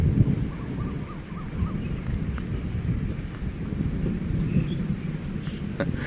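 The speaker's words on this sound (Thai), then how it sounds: "ฝนก็ตกแต่เช้าเลยนะครับ" Steady early-morning rain hisses and patters outdoors in Ratchaburi, Thailand, near a train stop, a dense wash of noise with faint distant rumbles underneath.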